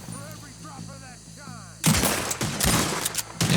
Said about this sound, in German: Ja, wir schießen durch den Baum durch.